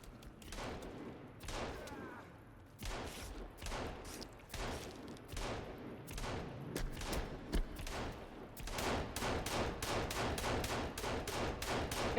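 Rapid bursts of gunfire from Sons of the Forest ring out across the whole stretch, repeated volleys overlapping into dense continuous shooting that grows busier near the end.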